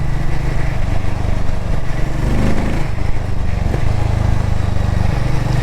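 A raw, vibey motorcycle of about 26 bhp runs steadily close by, its exhaust giving a continuous low, rumbling drone with slight surges and no talk over it.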